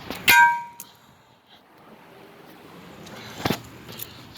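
A knife slung hard against a metal rim strikes with one sharp ringing clang, followed by quieter rattling and a second, duller impact a few seconds later.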